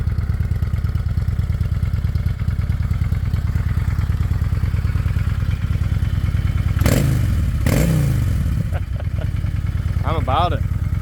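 A 2024 Honda Shadow Phantom motorcycle engine idles with a deep, steady throaty rumble close by, continuous and even, with a few brief voices and clicks on top near the end.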